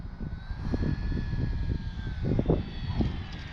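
An Arrows RC Bigfoot model plane comes in to land, its small electric motor whining with a thin steady tone that shifts in pitch, moderately faint over soft rustling and wind noise.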